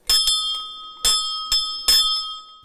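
A bright electric school bell rings in four short bursts on the first day of the school year in Silesia, Poland, loud and close, each ring decaying briefly before the next.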